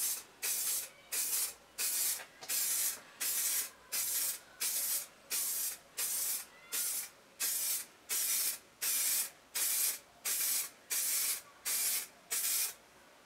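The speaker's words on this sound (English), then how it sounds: "I then use a spray varnish to give each coaster a robust finish" Spray varnish coats wood and resin coasters in a long series of short, even hissing bursts, about fifteen evenly spaced sprays close up with brief silences between.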